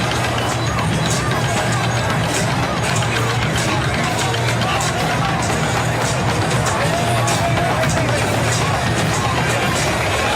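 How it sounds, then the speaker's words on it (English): Dense crowd noise from a parade moving up Broadway in New York for the Knicks, a constant loud roar of voices and cheering with faint drumming and chanting mixed in. "we can hear some drumming, certainly a lot of crowd noise, some chanting"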